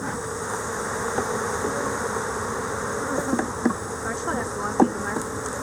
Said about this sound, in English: Bees are mad.